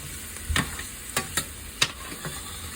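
Fresh chopped carrots being stirred in a pan over medium-high heat, giving a few scattered utensil scrapes and clinks against a faint, steady sizzle; no voices.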